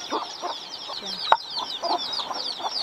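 Chickens being caught on a farm cluck and squawk nearby in rapid, overlapping bursts, with one sharp flap or thump partway through and no clear talk.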